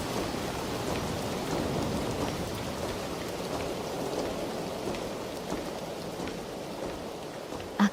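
Steady rain falls without pause, an even, close wash of drops over the whole stretch, with a single soft knock near the end and no voices.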